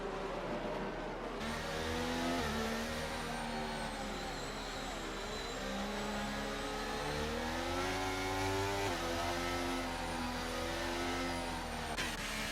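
Race cars in F1 23 accelerating together as the field returns to green after a safety car at Bahrain, a continuous loud engine roar with rising and falling revs layered from several cars, no talk.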